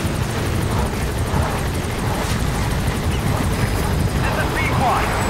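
A continuous helicopter rotor thump and engine whine in the video game Metal Gear Solid V, under steady game background noise, with a voice talking over it.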